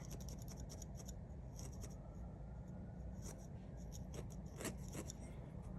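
Scissors trim wool on a needle-felted bird, a series of quick, close, quiet snips and light scratchy cuts over a faint background hiss.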